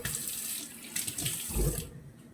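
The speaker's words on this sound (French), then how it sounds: "Je rajoute un peu d'eau." About a glass of water poured into once-cooked semolina for Kabyle afourou, a brief splashing pour lasting around two seconds, close and fairly loud with no talk.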